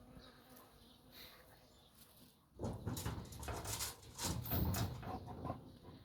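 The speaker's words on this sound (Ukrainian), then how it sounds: "Дивіться, скільки бджол борються за квітку." Many bees swarm around flowers that look like paper blooms outdoors, giving a steady, close buzzing that swells louder partway through, with drones overlapping continuously.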